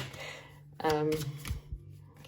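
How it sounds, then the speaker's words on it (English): Playing cards being shuffled, a few quick riffling bursts close by, with a voice talking over them. "I promise you I am shuffling."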